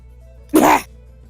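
A single loud, harsh cough bursts out close by, brief and explosive against a quiet background.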